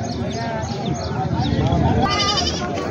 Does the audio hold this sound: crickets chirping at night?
no